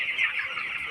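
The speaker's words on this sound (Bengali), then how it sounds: "আমার খামারে মুরগির বয়স আজকে 11 দিন।" Eleven-day-old farm chickens cluck and peep in a continuous chorus, close and fairly loud.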